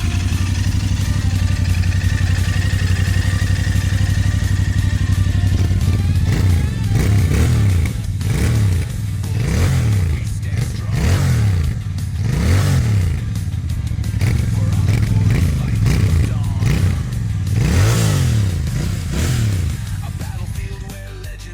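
Royal Enfield Bear 650 motorcycle at a showroom, its engine idling with a deep rumble, then blipped through a run of sharp, repeated revs that rise and fall, loud and close.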